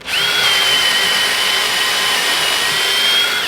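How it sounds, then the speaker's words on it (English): A power drill whines loudly and steadily at close range while drilling a hole, a continuous high-pitched motor buzz that starts abruptly and holds through. "So I'm going to drill a hole right here."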